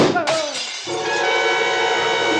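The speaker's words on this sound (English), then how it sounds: "The bullet that crashed through a closed window didn't stop until it got to Horner" A gunshot bullet smashes through a closed glass window in a radio detective drama, a sharp loud shatter followed by a long, bright ringing tail of falling and tinkling glass.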